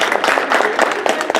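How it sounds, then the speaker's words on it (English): Brief burst of audience applause for an attorney at a community talk, dense overlapping clapping from a nearby crowd, loud and steady through the short stretch. "So let's give her a round of applause."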